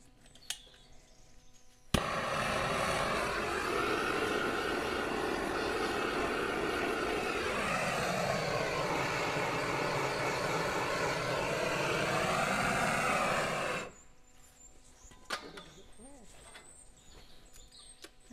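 A heat gun blasts steadily on a cow's hoof and a glue block during hoof trimming, a loud continuous rushing roar lasting about twelve seconds before cutting off abruptly, with quieter clatter after.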